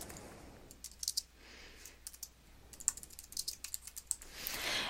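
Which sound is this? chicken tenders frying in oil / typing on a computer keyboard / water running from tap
typing on a computer keyboard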